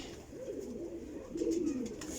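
Pigeons coo nearby in low, soft rolling calls, one at the start and a stronger one just past halfway. Faint background noise runs underneath, with no speech.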